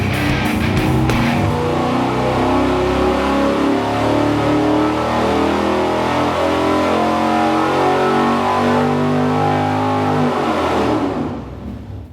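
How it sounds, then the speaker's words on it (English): A small block Chevy engine with a Holley 650 XP carburetor and Speedmaster El Rayo ignition runs hard on a dyno, a loud continuous roar with rising and falling revs before cutting off at the end. "We've got to run it on the dyno"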